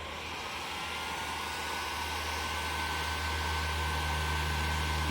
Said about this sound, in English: go gadget heat gun